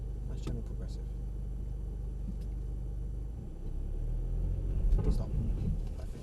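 Mercedes-Benz 4x4 on an off-road course, its engine a low steady rumble that swells as it climbs a slope, with a heavier surge near the end and faint talk inside the cabin.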